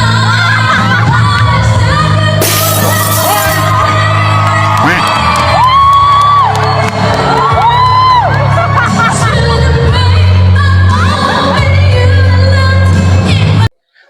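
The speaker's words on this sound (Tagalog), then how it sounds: "pagpasok ni Lola, hiyawan lahat ng tao sa kanya" A large crowd at a talent show in the Philippines cheers, whoops and shouts loudly and continuously, with excited voices rising and overlapping throughout before cutting off abruptly at the end.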